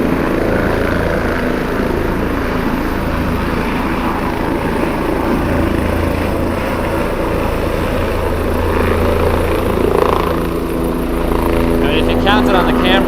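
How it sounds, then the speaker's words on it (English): A helicopter flies past at a Florida site, its steady rotor drone and engine rumble filling the background continuously and loudly, with people talking over it. "There goes the helicopter."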